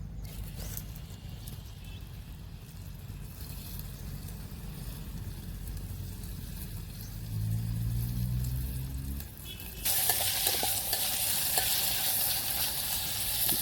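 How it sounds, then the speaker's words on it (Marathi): Chopped onion frying in oil for Maggi, cooked outdoors on a farm: a soft sizzle with a sudden louder burst of hiss partway through as the pan flares up, no voices. "आता पहिला कांदा टाकून घेऊया"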